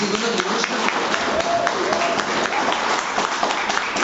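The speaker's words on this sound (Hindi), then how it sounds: "जिसको समझ में आ रहा है वो तालियां लगा सकता है" An audience at a talk on chemical-free farming breaks into steady, dense applause, many hands clapping continuously at moderate loudness throughout.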